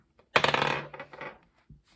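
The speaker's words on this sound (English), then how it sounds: "this rolling the dice is quite noisy as well" Dice tossed and rolling on a hard surface, heard up close as a quick rattling clatter that settles within about a second, followed by one small click.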